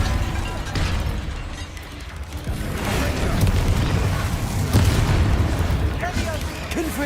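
Forceful magical blast of the Depulso spell in Hogwarts Legacy, a loud booming burst with rumbling, layered with game effects and someone talking over it.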